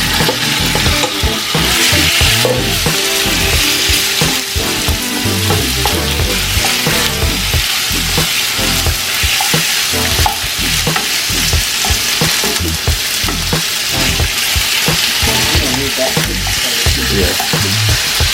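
Chunks of meat frying in a hot pan, a loud, continuous sizzle with crackling and stirring scrapes throughout, close up and without talk.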